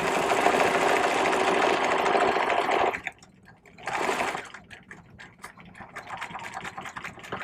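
A sewing machine runs a back stitch across a bag lining, loud and steady for about three seconds, pauses briefly, then resumes in shorter, uneven bursts of stitching.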